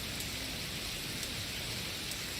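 Steady rain pouring down in a video game environment with tarps and a railing, a dense, even hiss of drops hitting surfaces, constant and close with no talk.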